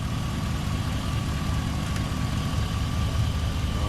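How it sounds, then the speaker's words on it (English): A truck engine idles steadily with an air conditioning compressor running, giving a constant low rumble and a thin steady whine throughout, with no speech. "there goes the compressor, baby"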